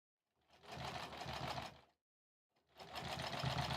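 A domestic sewing machine stitches quilt rows in the ditch, right in the seam, for a quilt-as-you-go project. Two bursts of steady, rapid stitching are separated by a short pause. The machine is close and alone, with no talk.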